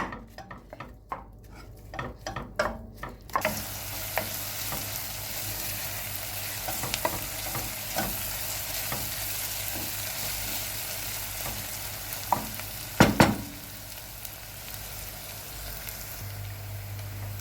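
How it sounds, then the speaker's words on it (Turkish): Steady sizzling of onion and garlic sautéing in a pan, with occasional stirring scrapes and a couple of louder clanks of a utensil against the pot. "Soğanımızı, sarımsağımızı biraz kavuralım."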